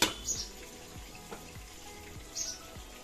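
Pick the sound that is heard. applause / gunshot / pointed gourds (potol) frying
pointed gourds (potol) frying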